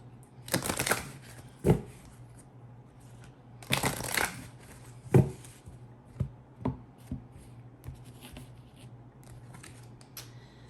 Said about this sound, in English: I pull some Manara Erotic Oracle cards to see kind of what's going on in your connection